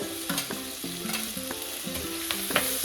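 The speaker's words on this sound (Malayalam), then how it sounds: "ഇനി ഇത് നല്ലതുപോലെ വഴറ്റണം" Tomato and garlic sautéing in a pan for sambar, with a bright sizzle under repeated scraping strokes of a spoon, each stroke leaving a short ringing tone from the metal pan, close and fairly quiet.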